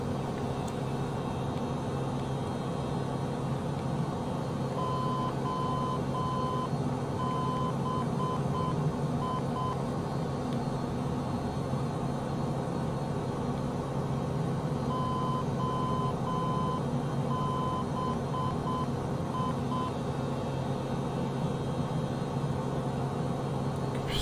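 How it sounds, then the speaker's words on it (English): Intermittent cockpit warning beeps sound in bursts over a steady engine drone in Microsoft Flight Simulator on Xbox Series X, two clusters of short even tones faint beneath the constant aircraft hum. "What the beeping is?"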